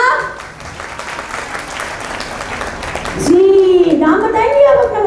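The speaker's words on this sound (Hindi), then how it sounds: "तालियां" A room of workshop participants claps in steady applause for about three seconds, after which a voice starts speaking over the fading claps.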